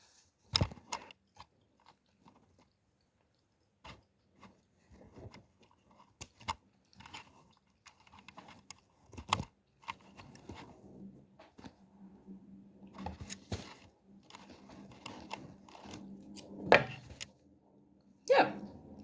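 Scissors cutting fabric pieces for sewing, heard as quiet, close, irregular snips and crunchy slicing strokes separated by short gaps, growing busier toward the end.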